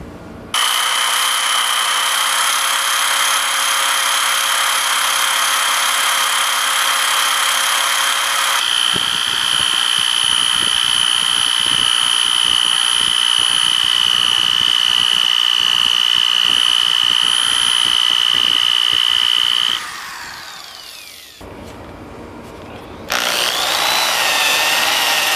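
A power sander at 400 grit works the pitted face of a rusty hatchet hammer head, a loud sustained high whine with grinding texture that shifts pitch midway, dips briefly, then resumes.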